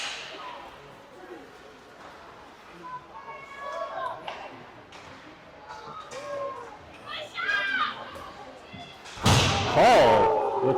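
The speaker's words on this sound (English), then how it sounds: "Paul with a slamming hit on the near side wall in Panthers territory" Youth 14U ice hockey game in a rink, where a player is slammed hard into the side boards near the end, a loud, sudden thump and rattle over distant crowd chatter, skate scrapes and children's voices.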